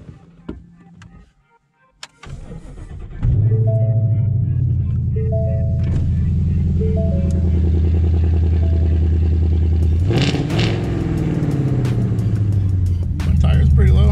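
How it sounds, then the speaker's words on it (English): A 2016 Ford Mustang GT V8 cranks over and fires into a loud, steady cold-start idle that swells into a brief rev, with some clatter and a voice talking before it starts. "Let's get a cold start on a brand new vehicle."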